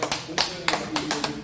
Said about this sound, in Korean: 박수 한번 쳐주시면